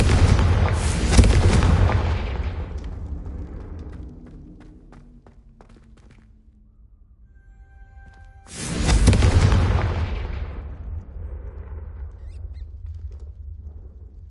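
In the video game Hogwarts Legacy, the Confringo fire spell detonates twice as deep, roaring booms, each rumbling and fading out over a few seconds, with a quiet gap between them.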